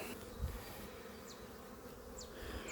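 Faint, steady buzzing of many honeybees around a hive, with a few louder passes near the listener against a low background hum.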